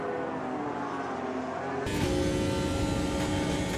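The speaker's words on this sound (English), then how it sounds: "Lando Norris sweeps past a helpless looking Max Verstappen for second place" McLaren Formula 1 car overtaking at the Canadian Grand Prix: a steady high engine whine that suddenly swells into a louder, harsher roar partway through as the car sweeps past.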